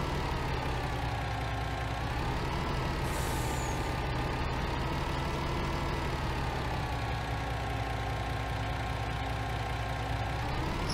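A truck idles steadily in Farming Simulator 19, a loud, constant low engine rumble with an even drone, and a brief hiss of air brake release partway through.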